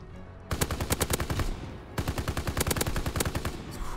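Rapid automatic gunfire from a World War II-era gun in Call of Duty WW2, two loud sustained bursts of evenly spaced shots separated by a brief pause, close and dominant.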